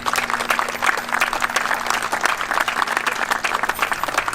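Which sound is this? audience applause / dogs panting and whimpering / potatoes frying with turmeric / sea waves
audience applause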